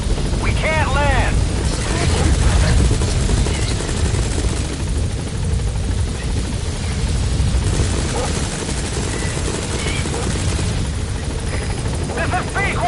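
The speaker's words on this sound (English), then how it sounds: "Support helicopter has arrived." Support helicopter arriving in Metal Gear Solid V: The Phantom Pain, a steady loud rotor roar filling the scene, with gunfire bursts and brief game voices over it.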